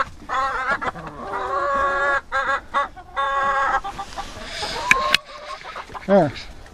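Chickens at their feeder, clucking and squawking close by in rapid, overlapping bursts, with a few louder calls near the end.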